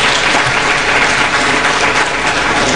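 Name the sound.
audience clapping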